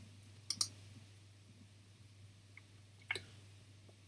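Mouse clicks while booking a time slot in a scheduling tool: two quick double clicks spaced about two and a half seconds apart, close and crisp over a faint steady hum, with a final click at the end.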